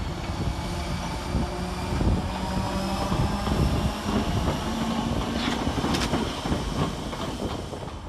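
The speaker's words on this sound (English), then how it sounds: "Over on the far side sees the departure of 508137 with the 11:30 Merseyrail electric service to Liverpool" A Merseyrail class 508 electric train pulls away from the far platform at Chester station on a Liverpool service, a continuous rumbling drone with faint wheel clicks and squeals, heard from a distance with no talking.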